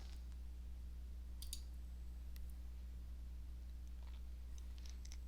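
Faint, sharp computer mouse clicks, a few scattered taps while sorting a report table by its column headers, over a steady low electrical hum.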